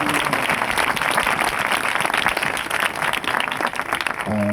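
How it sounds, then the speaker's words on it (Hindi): Congregation clapping for Jesus at a church service, dense sustained applause from many hands filling the room, steady and loud throughout, with a few voices and a brief tone near the end. "Let's clap for Jesus again."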